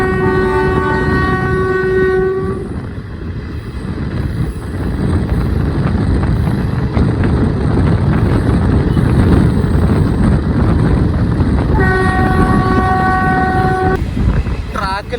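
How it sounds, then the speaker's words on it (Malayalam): A train running along the track near Tuticorin, with a loud continuous rumble and wheel clatter, and the locomotive horn blaring in two long sustained blasts, one at the start and one near the end. "അതാ ലോക്കോ പൈലറ്റ് ഹോൺ അടിച്ചുകൊണ്ടിരിക്കുന്നത്"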